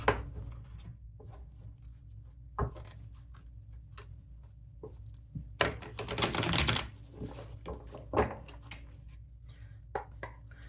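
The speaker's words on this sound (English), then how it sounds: "I'm going to do a big shuffle here." Tarot cards being shuffled, a run of irregular soft clicks and taps broken by a louder riffling burst partway through, close and quiet with no talking.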